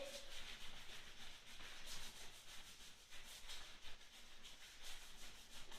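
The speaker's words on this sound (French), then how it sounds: "frotte les mains. Frottez bien, bien, bien fort." Hands rubbed together vigorously during a children's dance warm-up class, a soft continuous brushing friction in quick repeated strokes, faint and close.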